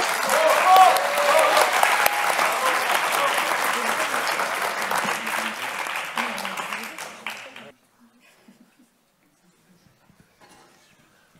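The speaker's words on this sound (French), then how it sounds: "Je pense qu'on peut les applaudir." A crowd at a French student public-speaking contest applauds loudly and steadily for several seconds, then the clapping fades out abruptly into near silence.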